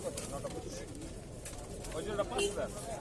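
Lahori pigeons at a crowded pigeon market, soft cooing faint beneath close bargaining chatter and general crowd noise.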